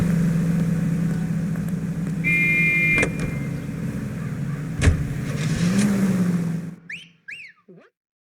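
A car drives in the 1940s Los Angeles setting of L.A. Noire: a steady, loud engine drone with a brief whine, running for several seconds before cutting off abruptly. Faint chirps follow in near silence.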